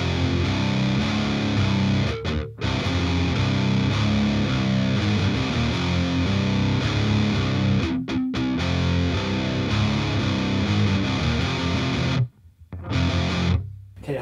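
Distorted electric guitar plays the outro riff from a song, heard close and loud in a continuous chugging pattern with brief silent breaks near the end.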